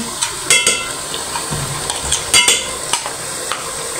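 Meat for achar gosht sizzling in a pot while being stirred, with intermittent scraping and clinks of a spoon against metal over a steady frying hiss.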